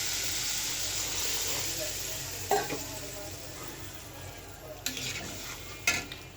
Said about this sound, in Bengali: গরম জলটা দিয়ে দিলাম।